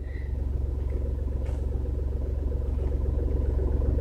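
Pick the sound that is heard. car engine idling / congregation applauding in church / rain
car engine idling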